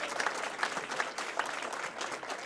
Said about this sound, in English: let's give another round of applause to Phil Laporte